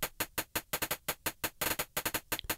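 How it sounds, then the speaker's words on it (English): A crunchy, gritty hi-hat ticks in a fast, steady pattern, each hit harsh and distorted with a lo-fi digital edge. "that's just a hi-hat that, again, I rocked with bit crushing"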